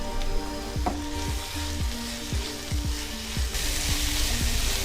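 Chilli powder, garam masala, ground coriander and cumin frying in a hummingbird flower curry, a steady close sizzle with a series of quick spoon scrapes against the pan.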